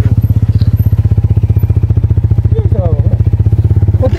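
A motorbike engine thuds in a loud, steady rapid pulse while riding a rough mountain road between Terhathum and Panchthar in eastern Nepal, with a brief voice near the end.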